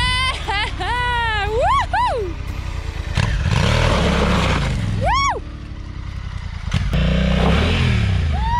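Honda Africa Twin CRF1100L ridden off-road through mud on UK green lanes: a loud, close engine revving and surging throughout, with rising and falling pitch sweeps from the throttle and voices talking over it.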